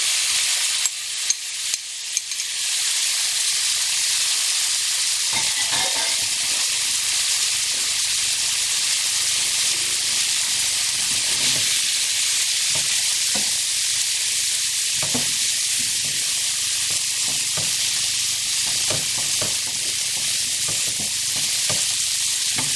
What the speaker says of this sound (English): Give that a little stir, and add in the sardines.